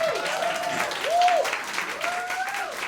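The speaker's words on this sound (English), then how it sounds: "Come on, more round of applause." An audience claps steadily after a jazz performance, with rising and falling whooping cheers cutting above the applause.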